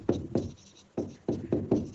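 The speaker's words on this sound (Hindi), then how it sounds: "तो वो चीज अब मैं यहां लिखूंगा।" Chalk or marker strokes on a classroom board during a Class 12 maths lesson, five short scraping bursts in an uneven rhythm with brief gaps, close and fairly clear, no talking.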